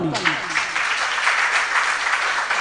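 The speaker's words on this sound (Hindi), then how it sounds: "अब बजाओ ना ताली" An audience at a Jain religious camp gathering claps briefly, a steady wash of dense applause lasting a couple of seconds after a voice fades out at the start.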